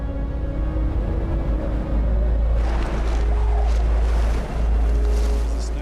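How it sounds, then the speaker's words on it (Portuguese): A fierce storm of strong wind and driving snow roars steadily and loudly with no letup, a deep constant rush that thickens and grows harsher partway through, with no voices. "Na verdade, a tempestade piorou."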